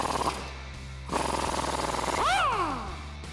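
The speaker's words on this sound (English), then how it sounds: "We can tighten it down with that 17mm socket and wrench." A 17mm socket and wrench tighten a factory nut on a Toyota Tundra during a leveling kit install, with bursts of rapid mechanical ratcheting and a short squeaky rising-then-falling screech near the end, all close up.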